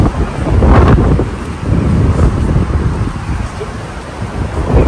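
Strong typhoon-front wind battering the microphone, a steady loud rush with an early gust and broadband roar that eases slightly toward the end.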